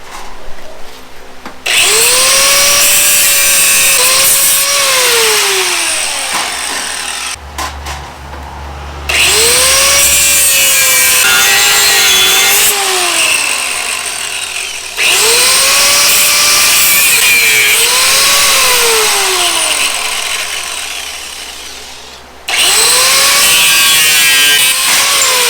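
A power saw cuts a metal piece to fit a Detroit Diesel 671 engine cradle, loud bursts of grinding with rising and falling tonal whines, in four long passes separated by brief pauses.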